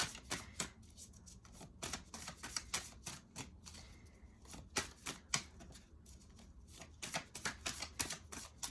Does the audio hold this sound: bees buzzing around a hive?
no